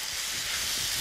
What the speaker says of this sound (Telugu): ఇప్పుడు క్యాప్సికమ్, టమాటో ముక్కల్ని ఒక 5 నిమిషాల పాటు బాగా వేగనిద్దాం.